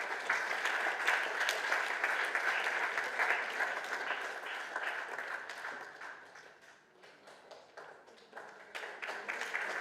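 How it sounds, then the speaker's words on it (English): Sustained applause from an audience at a scholarship award ceremony, dense clapping that dips slightly midway and then picks back up, fairly close and with no voices. "I think we can have a better applause for him here."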